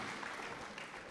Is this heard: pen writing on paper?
no